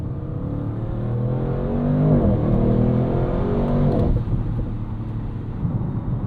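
A 2025 Audi RS6 Avant's twin-turbo V8 pulls hard with its exhaust open, a deep, loud harmonic roar climbing in pitch, briefly dipping as it shifts, then rising again.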